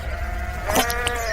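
A sheep on the Yorkshire Moors gives a single short bleat over a steady outdoor background hum, fairly close and clear, with no talking.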